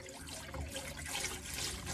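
Antifreeze runs into a camper sink drain in a horse trailer, a steady, soft gurgling pour of liquid that stays fairly quiet and continuous, with no speech.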